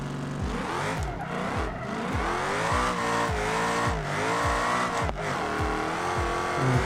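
A car test drive in BeamNG with a racing engine climbing repeatedly through quick gear changes, each rev rising and dropping in a rhythmic pattern, loud and continuous with some tire squeal, no voices.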